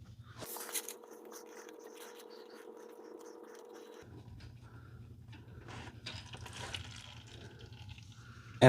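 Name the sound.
engine oil draining from a Honda Rincon TRX680 ATV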